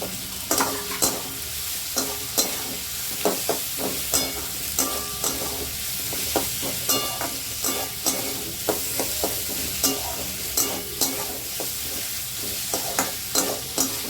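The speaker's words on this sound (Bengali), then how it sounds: "ভাজা ভাজা হয়ে গেছে পেঁয়াজটা, এই মধ্যে আমি ক্যাপসিকামটা দিয়ে দিলাম।" Sliced onion and capsicum sizzle in a hot pan while a spatula scrapes and stirs in a quick, irregular rhythm, close and fairly loud, with no voices.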